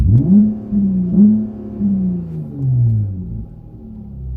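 A car fitted with an Injen X-Pedal Pro throttle controller revving and accelerating hard from a dig, loud engine note rising repeatedly through gear changes, close and without talk.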